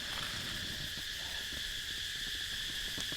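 Cicadas call in a forest in southern Laos, a dense steady buzzing drone that fills the whole clip at constant loudness, with no voices.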